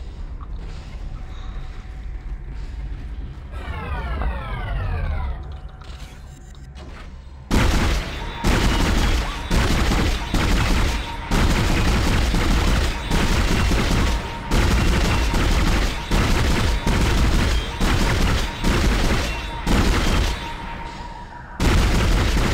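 Rapid gunfire from weapons in the Dead Space sci-fi horror game, loud repeated sharp shots in quick bursts after a quieter stretch of game ambience, no voices.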